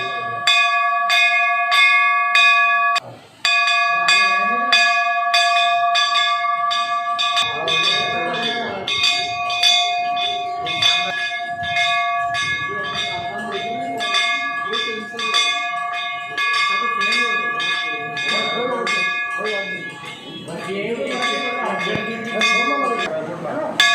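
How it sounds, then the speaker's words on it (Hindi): A sensor-operated temple bell rings on its own without being touched, its bright metallic tone repeating steadily for the whole stretch with a brief break early on, while cattle lowing and faint voices mingle in the background. "नाहरुख खान ने सेंसर युक्त घंटी का निर्माण किया ताकि भक्त बिना संक्रमण के भगवान के दरबार में घंटी को बिना छुए बजाकर"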